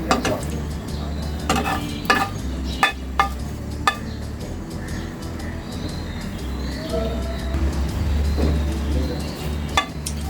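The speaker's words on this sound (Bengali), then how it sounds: "এই পর্যায়ে আমি 2টো শুকনো মরিচ ভেজে নেব এই মাছের তেলের মধ্যেই" Two dried chillies frying in leftover rui fish oil, a continuous close sizzle with sharp spatula scrapes and stirring clicks, and faint birdsong in the background.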